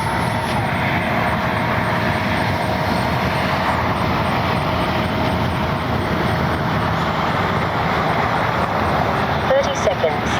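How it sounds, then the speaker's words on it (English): A radio-controlled F-22 Raptor model with twin 40mm ducted fans flies during a morning session, producing a continuous broad roar with a thin high whine throughout. "Oh, great flying little F-22."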